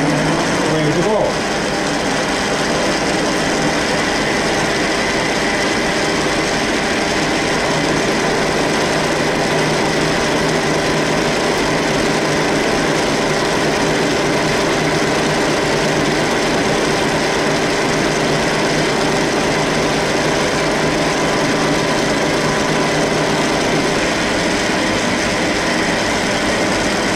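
Metal lathe at 420 rpm with 56 mm per minute feed and half-millimetre depth cutting a square thread into a pine wood stick, a loud steady mechanical whirr and rumble running unchanged throughout.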